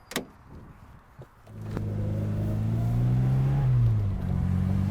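A Fiat X1/9 1500 mid-engine sports car with a Lampredi-designed engine starts up and drives off, its engine rising into a loud, steady growl that climbs in pitch and then settles, heard up close with no talk.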